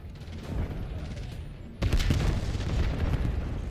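A frag grenade goes off in Black Ops 7 with a sudden loud blast near the two-second mark, followed by rumbling, crackling game noise that stays dense and busy to the end.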